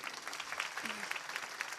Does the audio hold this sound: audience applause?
yes